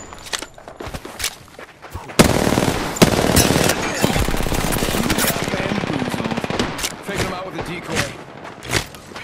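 Rapid automatic gunfire from the Apex Legends video game bursts loudly and continuously for several seconds, with scattered single shots and thuds before and after, while a player talks over it.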